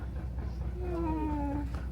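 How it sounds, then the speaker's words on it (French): Small kitten of about three or four months, met on a trip in Thailand, gives a drawn-out meow near the microphone, rising and then falling, set against a low steady background hum. "on n'arrête pas de croiser tout le temps des petits chats"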